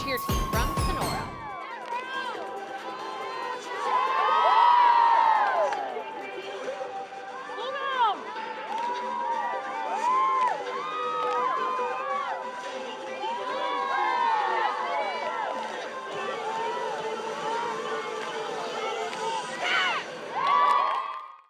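Sonora cheer team and crowd cheering together, a dense, steady wash of shouting and whoops with children's voices, swelling loudest early on and again near the end, preceded by a brief moment of near silence.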